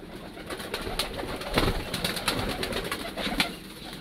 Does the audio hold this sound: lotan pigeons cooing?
yes